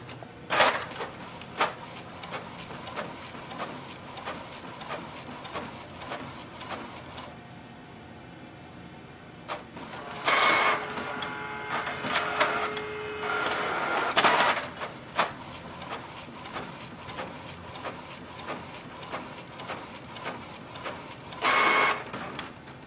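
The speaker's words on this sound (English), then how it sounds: "you can click on the green button for printing in color or black" A Canon Pixma G7020 inkjet printer running a print job, with steady mechanical whirring and clicks, and several louder bursts of carriage and paper-feed motion heard up close.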